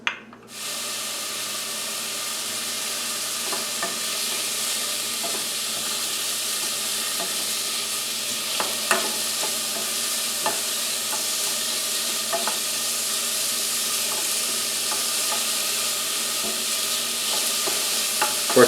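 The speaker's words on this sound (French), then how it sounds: "On va commencer par faire rissoler nos oignons." Onions fry in a tablespoon of oil in a pan, a loud, steady close sizzle that starts abruptly and holds constant, with occasional faint stirring clicks and no talking.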